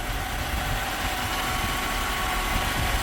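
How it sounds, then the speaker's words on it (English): A Mercedes W124 engine idles too high, around 1200 RPM, with a steady, fairly faint hum and vibration under broadband noise and no voices. "the engine is revving excessively high. It's actually now at 1200 RPM."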